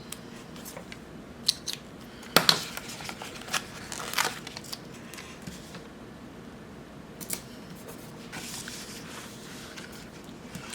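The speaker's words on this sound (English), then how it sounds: "I'm just going to cut this one out" Scissors snip out a paper planner sticker in a quiet room, with a few sharp close cuts around the two-second mark and faint light crackles and handling after.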